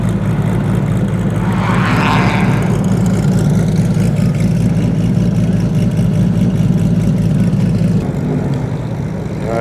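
Porsche 996 GT3 race car with a large wing and a center-exit exhaust, its engine idling loud and close with a steady, rough, lumpy rumble that holds for the whole stretch.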